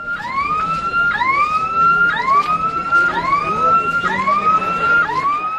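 A fire brigade vehicle's siren wails in repeated rising sweeps, loud and close, over rumbling traffic at a student protest against a fee hike.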